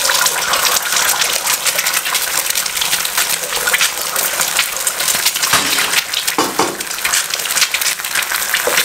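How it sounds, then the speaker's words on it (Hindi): Two eggs dropped into hot oil in a pan, a loud continuous sizzling hiss with crackles running throughout, no voices. "ऑयल गर्म हो चुका है। 2 अदद अंडे डाल दें।"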